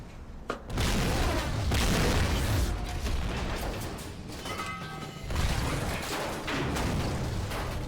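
Explosions in the video game GTA V around a submarine, a heavy boom followed by a long rumbling roar with crackling debris, then a second blast rolling on to the end.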